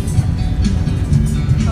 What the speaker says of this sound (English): Nakasakay na tayo ng bus